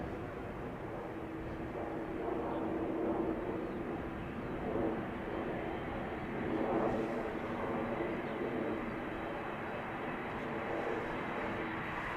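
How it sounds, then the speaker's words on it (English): A 31-year-old Boeing 747 of Suparna Airlines, first flown in 1991, takes off from Amsterdam Schiphol runway 36L bound for Hefei, a steady, faint, distant broadband engine roar that holds for the whole stretch without talk. "31-year-old Boeing 747, outbound to Hefei, Suparna Airlines"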